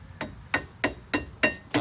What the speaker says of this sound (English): Hit the pad with a little bit of rubber hammer.